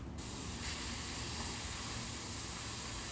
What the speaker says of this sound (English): I basically have just a basic airbrush paint, black, my airbrush, and I try and stay just within the lettering